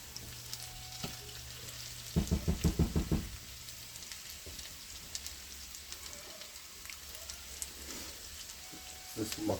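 Potato pancakes fry in a pan, a soft continuous sizzle and crackle with a brief burst of louder rhythmic clatter early on, and faint voices in the background.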